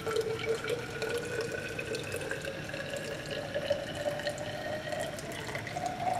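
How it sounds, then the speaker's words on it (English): Water pours steadily from the spout of a tank into a catching container, a continuous splashing trickle whose pitch slowly rises, close and fairly quiet. "I'm going to put that in and grab the water that comes out."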